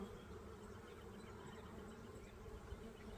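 Honey bees swarm around an open hive at an April check-up, a dense continuous buzz with no talk over it.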